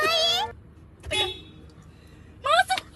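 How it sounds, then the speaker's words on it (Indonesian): Car horn beeps from inside a car, two short toots at the start and a pair near the end, fairly close and clear, with people talking in the car between them. "Klakson, Tas. Klakson kali ya."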